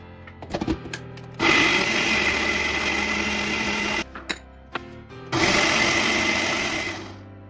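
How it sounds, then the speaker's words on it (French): A kitchen blender purées vegetables with celery for a vegan pizza, running loud in two long whirring bursts of a few seconds each, with a short clatter and brief pulses between them. "Nous allons les mixer."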